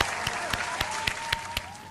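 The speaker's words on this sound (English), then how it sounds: "let's clap it up for GSP." A small group claps in sharp, distinct beats at a steady rhythm, close and fairly loud, with a faint sustained tone running underneath.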